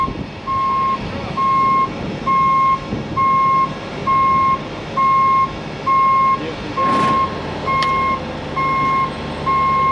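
A propane bobtail truck reversing, its backup alarm giving steady, evenly spaced beeps over a low idling engine rumble, with a brief clank near the end.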